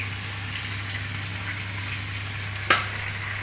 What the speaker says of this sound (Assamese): এইফালে মাছ ভাজি থৈছোঁ